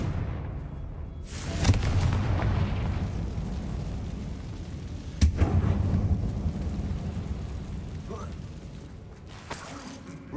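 A Confringo fire spell in the Hogwarts Legacy video game bursting into a loud, rumbling explosion, with a heavy boom and crackling blasts that roll on for several seconds, ending in a sharp final crack.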